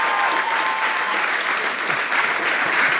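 Audience at a live comedy game show breaks into steady, dense applause that fills the room evenly from start to finish, with no voices rising above the clapping.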